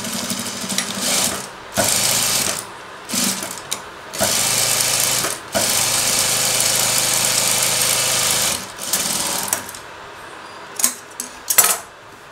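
A sewing machine stitching a cross-cut blouse neckline runs in several bursts of steady whirring, close and loud, separated by short pauses and ending in a few clicks and handling knocks.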